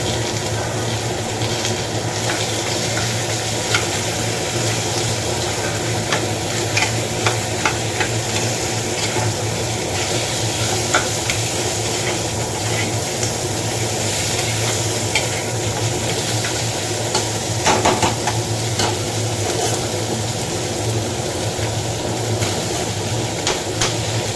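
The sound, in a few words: dal being tempered, sizzling in the pan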